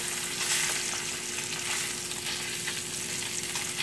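Salmon fillets sizzling in a hot pan as they are turned over, a constant close frying hiss with faint stirring and scraping sounds and no talk.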